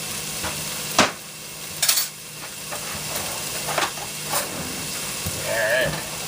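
Jarred minced garlic sizzling in a hot pan for a meat red sauce, a continuous crackling fry punctuated by several sharp clinks and scrapes of stirring.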